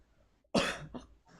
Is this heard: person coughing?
yes